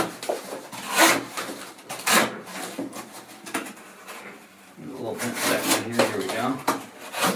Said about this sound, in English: Now I'm into thicker stock and I'm coming through some tape. So it's slowing the blade down a little bit, but it's still cutting just great.